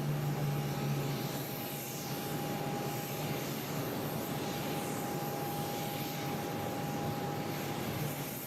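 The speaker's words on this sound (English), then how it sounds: "we got a Spirit A320 now rolling down at 22 right" A Spirit A320 jet on its takeoff roll down runway 22 right at Boston Logan, a steady, loud engine roar with a faint whine, continuous throughout with no voices.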